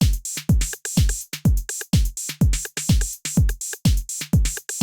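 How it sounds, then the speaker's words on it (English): A Detroit techno drum group built around a punchy 909 kick, with steady four-on-the-floor thumps, crisp hats and snares repeating in a simple tight loop, loud and alone with no voices. "So then the next thing I've got here is the drum group, which altogether sounds like this."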